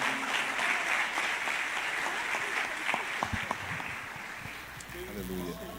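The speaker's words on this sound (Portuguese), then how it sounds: "Você pode aplaudir ao Senhor." Church congregation applauding together, a steady broad wash of clapping that carries through, with faint voices underneath and the clapping thinning toward the end.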